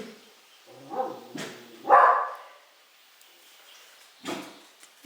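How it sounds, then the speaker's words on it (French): Dogs bark out in the countryside, several separate woofs spaced over a few seconds, moderately distant with quiet gaps between them. "les chiens qui aboient"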